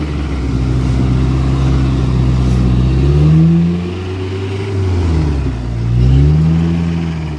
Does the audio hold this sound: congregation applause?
no